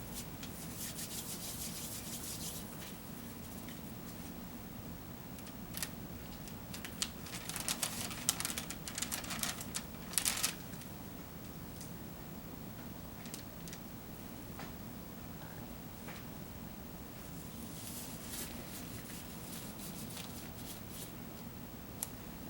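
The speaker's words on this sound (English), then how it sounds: "Don sterile gloves." Faint rubbing and rustling as sterile gloves are pulled on during an airway suction procedure, a soft continuous friction with a few slightly louder scrapes midway.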